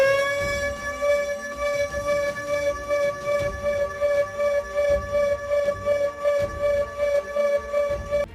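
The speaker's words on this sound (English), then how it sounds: "First is Sirodrome." A Sirodrome siren wails with a sustained, steady tone over a rumbling low background, holding loud and unbroken for the whole stretch.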